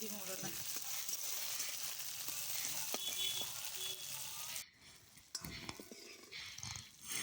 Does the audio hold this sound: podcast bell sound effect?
no